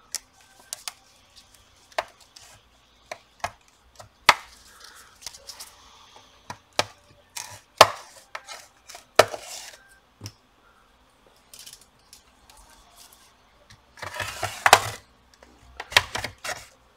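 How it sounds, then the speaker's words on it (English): Sharp plastic clicks and snaps from prying apart the plastic case of an Asus FX506H gaming laptop, irregular close-up cracks spread throughout with a denser burst of crackling near the end. "Now we have to separate"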